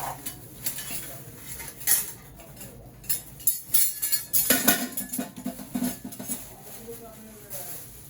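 Small new bowls, spoons and kitchen utensils for a new home clink and rattle as they are handled, with scattered close metallic chinks and knocks in irregular bursts, more frequent in the middle.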